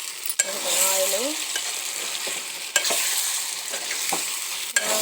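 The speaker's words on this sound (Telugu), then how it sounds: "కలపెట్టుకుంటూ ఉండాలి, మాడిపోయిందండి." Mutton curry fries in oil with a loud, constant sizzle while a spoon stirs it, and several sharp scrapes and clinks of the utensil against the pot stand out.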